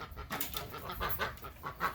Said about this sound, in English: We got birds that want a treat. They're trying to invade my shop.